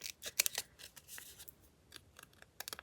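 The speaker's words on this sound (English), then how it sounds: "But I'm going to cut these so that they're not obviously sticking out" Scissors cutting paper to trim page tabs, a quick series of crisp, close snips in short bursts with brief pauses between, no voices present.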